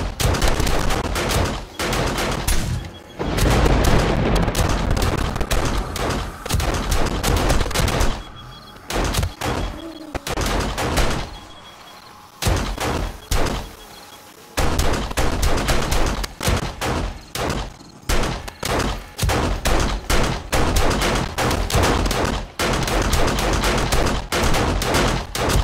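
Repeated loud shots from a lever gun in 7 Days to Die during a horde night, arriving in irregular clusters with brief quiet gaps between volleys, close and sharp with no voices.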